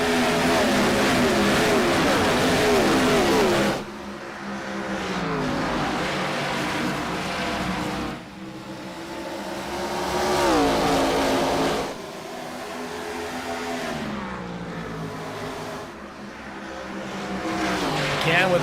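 IROC race cars at Iowa Speedway roar as they accelerate on a green flag restart, engines rising and falling in pitch through repeated gear changes, loud and continuous, with an announcer talking over them.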